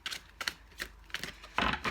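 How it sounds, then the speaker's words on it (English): Several bursts of crisp, papery riffling and slapping as a deck of cards is shuffled close by, in uneven quick clusters with brief pauses. "All cards have been pre-shuffled, but we'll shuffle again for the sake of the video."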